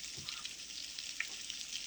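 Homemade fried apple pies sizzle in a hot skillet, a soft, steady hiss of frying oil with small crackles and pops scattered through it, fairly quiet and with no talking.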